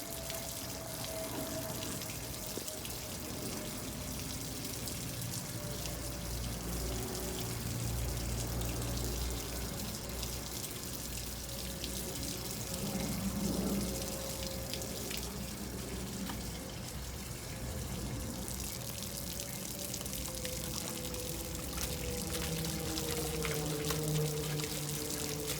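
Water pours and splashes steadily while clothes are rinsed by hand during a manual wash routine, a continuous close rush of running water with sloshing underneath.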